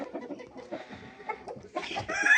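Chickens cluck and call close by in a busy flock, ending with a loud rooster crowing that rises over the rest.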